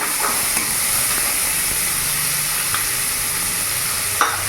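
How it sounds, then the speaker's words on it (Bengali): Chopped onion fries with nigella seeds in hot oil, a loud, steady, close sizzle with a few small clicks and a sharper crackle near the end. "এরই মধ্যে আমি পেঁয়াজ কুচনো দিয়ে দিলাম একটা।"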